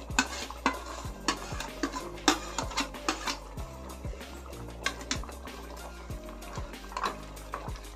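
A spoon stirs vermicelli and sago payasam, a Rayalaseema-style sweet, in a pot, with repeated scraping strokes and soft bubbling. The strokes are close and come about every half second.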